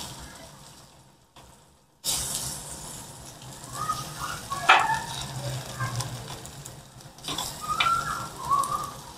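Surmai fish frying Malvani style with garlic, a steady close sizzle that starts abruptly after a quiet moment, with a sharp clink midway and faint bird-like chirps in the background.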